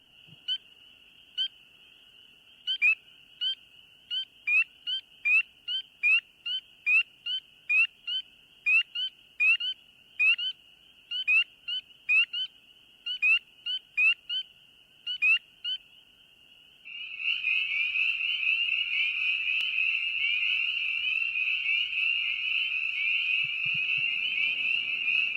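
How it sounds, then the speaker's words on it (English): A single tree frog gives a series of sharp, evenly spaced high peeps, about twenty in a row, then a dense continuous chorus of many frogs takes over, loud and sustained. "So you're going to hear a single frog peeping"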